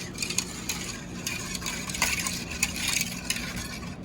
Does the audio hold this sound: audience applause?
no